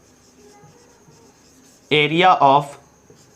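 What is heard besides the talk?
writing on paper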